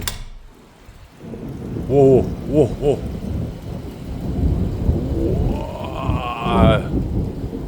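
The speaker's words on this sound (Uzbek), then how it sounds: "Tog'da shunaqa yomg'ir quyapti, boru shaharda ham quyapti" Heavy rain pours in the mountains during a thunderstorm, a dense steady hiss with low rumbling throughout, while a voice makes a few short sounds and a longer rising tone sounds in the middle.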